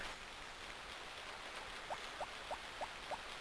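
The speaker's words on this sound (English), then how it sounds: "But we can listen to the rain" Steady rain falling in the Harvest Moon video game, a continuous hiss of broadband patter with a faint repeating chime-like tick near the end, no voices.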